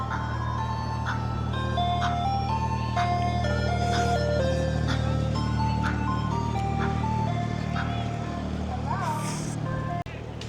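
An ice cream van plays its chiming jingle of bright repeated notes over a steady engine hum at a car park during an Australian Christmas outing, loud and continuous, cutting off sharply at the end.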